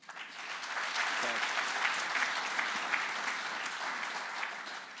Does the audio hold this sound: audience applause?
yes